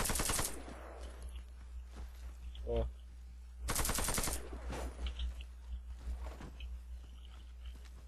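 Two loud bursts of rapid automatic gunfire in a video game, fired in bursts, separated by a pause, with a brief spoken word and fainter shots between.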